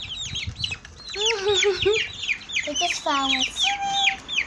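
Young nine-week-old chicks clucking and chirping busily as they squabble over a worm, steady overlapping calls close by, with a person talking over them.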